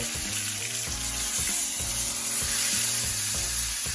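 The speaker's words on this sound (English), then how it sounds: "Get all that fat, I'm gonna sear that" Ribeye steak fat sears in a hot pan with a steady, bright sizzle, while a repeating low beat of background music runs underneath the whole time.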